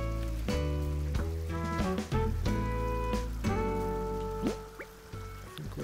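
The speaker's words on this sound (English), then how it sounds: "going to water the plants" A watering can pours onto plants in Animal Crossing, a soft, quiet run of drips and trickling liquid over gentle tonal game music.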